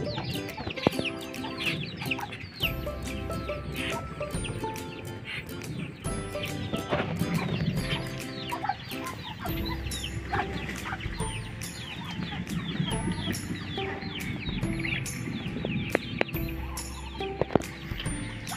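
A breeding pen of silver Muscovy ducks resounds with dense, continuous clucking and chattering from many birds at once, busy and close, with no voices over it.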